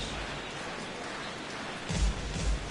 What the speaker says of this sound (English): The rain is intensifying right now.